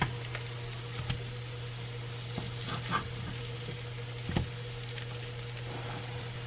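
Pan-seared salmon cakes sizzle steadily in a hot pan just after flipping, a continuous soft frying hiss with occasional faint clicks and spatula taps, heard alone without talk.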